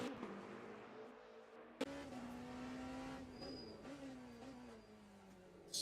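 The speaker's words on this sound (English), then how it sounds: "he chucks the Porsche into the Porsche curves" A Porsche race car in a sim racing game at Le Mans sweeps through a curve, its engine droning in a steady, slowly shifting pitch with a brief sharp knock partway through, while a commentator speaks faintly underneath.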